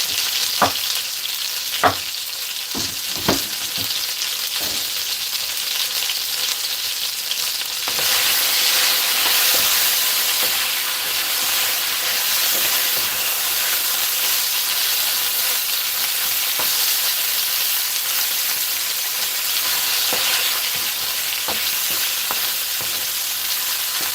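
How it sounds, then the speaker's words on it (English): Pot of water at a rolling boil on a kitchen stove: a steady, loud bubbling hiss that rises and fills the space, with a few knocks early on and no talking. "Gonna set this pot, it's boiling, perfect."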